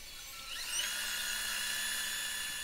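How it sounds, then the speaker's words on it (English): A wood lathe spins a small turned wooden box while friction polish is applied, its motor whine rising as it speeds up, then holding a steady high-pitched hum, fairly faint and with no voices. "When I use friction polish, I apply it real slow at first, and I turn the lathe up"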